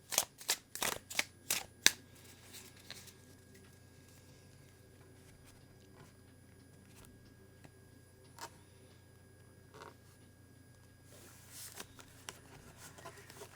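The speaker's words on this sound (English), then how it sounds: "I'm going to go ahead and start shuffling the deck." A few quick riffling shuffles of a tarot deck at the start, then quiet handling with scattered soft taps and a faint steady hum.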